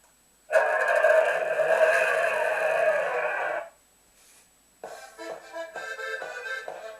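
A toy car's electronic engine whir plays loudly for a few seconds, stops, then a second buzzy toy sound starts up close.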